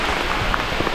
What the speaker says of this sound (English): It's raining like a lot.